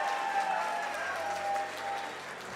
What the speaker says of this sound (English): Can I get one final round of applause for everyone who competed today?